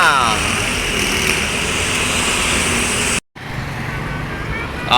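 A bus passes on a busy road, its steady loud engine and tyre roar filling the scene and swelling close by, with a brief cut partway through before the traffic noise resumes.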